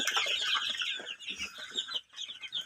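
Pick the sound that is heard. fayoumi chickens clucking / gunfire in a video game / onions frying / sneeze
fayoumi chickens clucking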